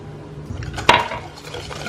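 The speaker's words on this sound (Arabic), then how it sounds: "خلطنا مقادير مع بعض" A utensil mixes chocolate cake batter ingredients with oil in a bowl, with one sharp clink against the bowl near the middle amid soft scraping and stirring, close by and without speech.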